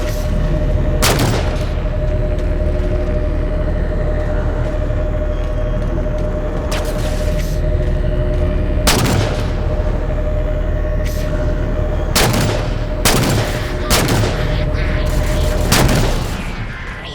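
Gunfire and explosions in the video game Halo 4, loud bursts of shots and booming impacts scattered over a constant rumbling background hum, with several rapid clusters toward the end.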